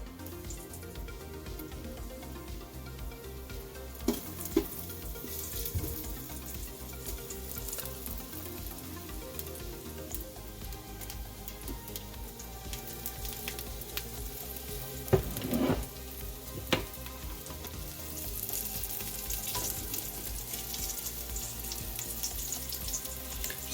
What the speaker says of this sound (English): Then you drop in your meat. Just to sear it.